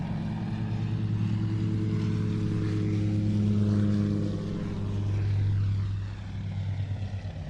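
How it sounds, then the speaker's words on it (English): A Bushcat light propeller aircraft lands on the far runway at an airshow, a distant droning engine hum that swells and fades gently over several seconds with no voices. "the Bushcat will land on the far runway"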